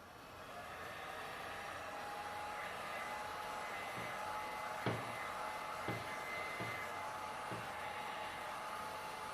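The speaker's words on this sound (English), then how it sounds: "So I've got my heat gun now." A heat gun blows hot air over poured resin for an ocean-scene artwork, a steady close whooshing hum with a few light taps and knocks.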